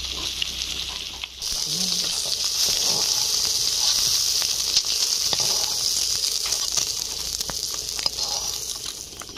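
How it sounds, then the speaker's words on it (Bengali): Fried fish are lifted out of hot oil in a pan while cooking a fish curry. Oil sizzles and hisses steadily at close range, broken by faint clinks and splashes. "সব মাছ ভেজে নেওয়া হয়ে গেছে, এখন আমি তুলে নিচ্ছি"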